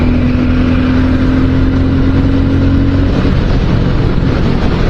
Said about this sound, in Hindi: सबसे मस्त चीज इस बाइक में जो लगती है वो है इसकी साउंड